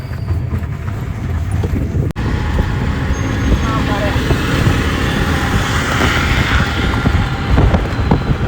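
An electric auto rickshaw rolls slowly through town traffic, giving a continuous close road rumble and rattle with a faint voice now and then.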